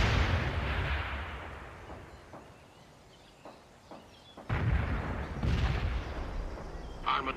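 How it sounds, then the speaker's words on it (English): Missiles launch in the strategy game World in Conflict, with loud whooshing blasts that fade to a rumble before a fresh burst of launches erupts nearby. "Launching 85 missiles."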